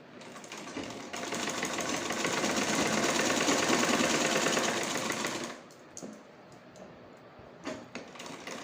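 Sewing machine running steadily for about five seconds while top stitching around a garment neckline, a dense even whir close by, then stopping, followed by quiet small handling clicks.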